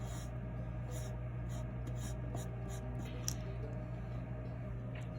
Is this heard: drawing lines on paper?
yes